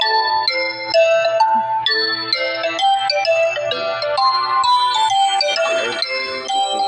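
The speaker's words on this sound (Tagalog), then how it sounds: "Mas nag-alarm pang cellphone ni Papa" A cellphone alarm plays a loud, steady electronic melody of repeating ringtone notes close by in a home. It continues without a break, and a faint low hum sits underneath it.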